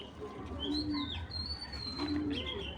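Racing pigeons coo close by in a loft, with a few low rolling coos and thin whistly calls over a faint background murmur.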